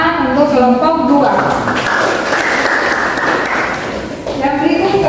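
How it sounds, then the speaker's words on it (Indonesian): A classroom group of students applauds for group 2 after their presentation, a burst of clapping rising over a speaking voice and lasting a few seconds before talk resumes. "Biar kita pegang tepuk tangan untuk kelompok 2"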